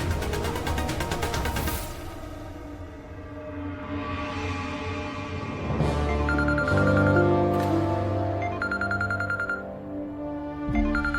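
A telephone rings as a call is placed, its repeated tones sounding over dramatic background music with no talk.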